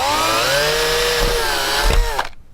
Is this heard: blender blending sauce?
no